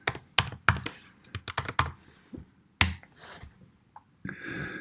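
Username and password being typed on a computer keyboard: a run of close, sharp key clicks in irregular bursts, with a brief pause, then a softer sustained rustle toward the end; no talking.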